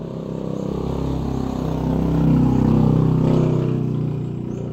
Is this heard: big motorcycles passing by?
yes